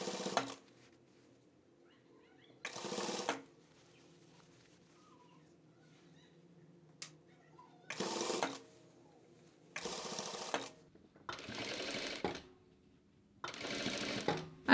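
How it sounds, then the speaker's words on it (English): A four-thread Jack overlock sewing machine stitches a sweatshirt seam in six short runs of loud, fast whirring, separated by quiet pauses with a low background hum. "I'll stitch it to the next shoulder seam and then cut off the excess."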